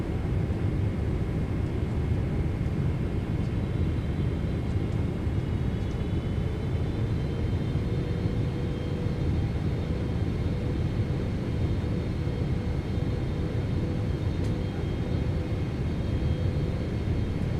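Low, continuous rumble of a PMDG 777-300ER airliner's engines heard from the cockpit in Microsoft Flight Simulator 2024 as the flaps extend, a steady, even drone with no distinct events.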